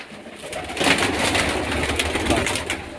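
A khaki pigeon at a breeder's loft gives soft, low cooing calls over a few seconds, close by, with faint background noise.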